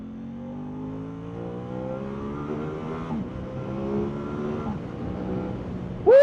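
An Aprilia RS 660 sport motorcycle engine accelerates on the road, its tone climbing steadily through a couple of gear changes, heard clearly from the rider's position with no talking.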